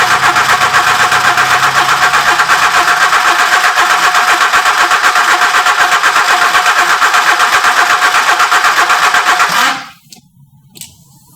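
An Audi 80 B3 with a 2.0 8v engine runs loud and rough for about nine and a half seconds, then cuts out abruptly into near silence with a few faint clicks.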